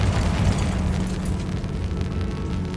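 A Confringo blasting spell in Hogwarts Legacy lands as a heavy, rumbling explosion with a low roar that stays loud and sustained for a few seconds.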